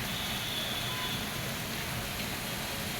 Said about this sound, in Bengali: দেখুন কি অবস্থা বৃষ্টির